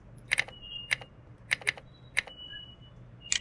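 Fingers tapping out a short word on a computer keyboard: about nine crisp, close key clicks in quick uneven bursts over a quiet room hum, with no talking.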